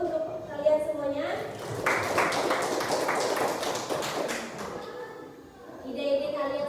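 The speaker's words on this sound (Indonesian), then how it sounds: "Coba tepuk tangan dulu untuk kalian semuanya." A classroom of pupils claps together for a few seconds, a dense burst of hand claps rising between stretches of a teacher's voice, with children's chatter mixed in.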